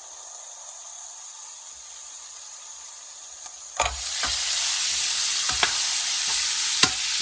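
Steady sizzle of paella with snails and chicken frying in a pan, a close, constant hiss broken by a few sharp scrapes and knocks of a utensil as paprika is stirred in.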